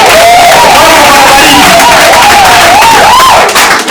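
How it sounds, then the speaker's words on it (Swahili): A live talent-search audience applauding and cheering loudly, a dense continuous roar of clapping and crowd noise, with a raised voice calling out over it. "Wao bikiani makofi."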